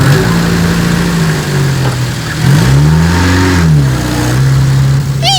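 A car engine runs steadily at close range, then revs and accelerates as the vehicle pulls away, with the pitch rising and falling through several gear changes before settling into a steady drone.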